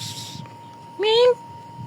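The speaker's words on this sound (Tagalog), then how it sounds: "Ayun yung mga pusa namin dito." A domestic cat gives a single short rising meow, fairly close and clear, standing out over a low steady hum and quiet background noise.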